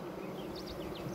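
Honeybees in a hive hum in a steady, faint drone with a few brief rising whines as single bees fly past close by.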